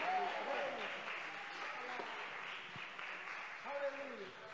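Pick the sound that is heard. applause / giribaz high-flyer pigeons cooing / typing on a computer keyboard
applause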